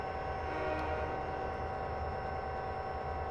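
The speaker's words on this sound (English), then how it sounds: "Another new train coming along." A train in a railroad simulator game set on Cajon Pass gives a steady, loud rumble with a sustained tonal whine, continuous and unbroken and without voices.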